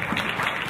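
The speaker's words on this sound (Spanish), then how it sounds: "una aplauso." Steady applause from a crowd, a dense even wash of clapping held at constant loudness for under a second.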